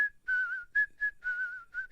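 Someone whistles the Kill Bill theme tune in clear, close phrases of sustained and sliding notes, with short breaks between them and no talking.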